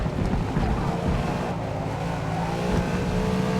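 A Ford Mustang GT engine in the racing game Forza Motorsport (2023) drones steadily under throttle, a dense continuous rumble with shifting tones and some wind-like noise, close and loud.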